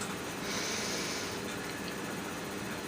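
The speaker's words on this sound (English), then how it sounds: "Let's give it a sniff." A single sniff of freshly opened Kicking Horse Kick-Ass dark roast coffee, a soft close-up intake of breath against a steady hiss, with no talking.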